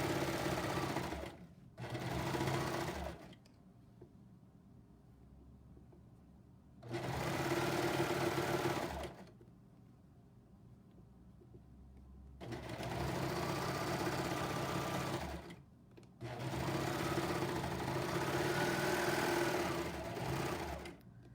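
A serger overlock sewing machine runs a 3-thread finish along a centre front seam in four loud, rapid, close bursts of several seconds each, separated by quiet pauses, with no talking.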